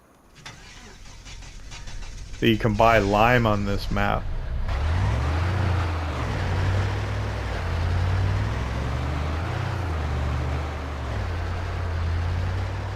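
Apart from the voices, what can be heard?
tractor engine starting and driving in video game Farming Simulator 25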